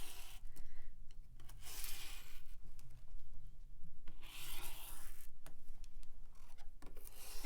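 A paper-pieced quilt block is trimmed against a ruler with a cutter, giving repeated close, gritty rubbing and scraping strokes in uneven bursts with short pauses. No voices.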